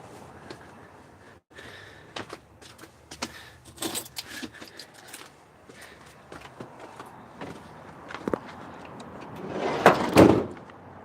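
A set of keys jingles and rattles in short bursts through the clip, close to the mic. Louder handling and a thump toward the end suggest a door or van nearby being moved.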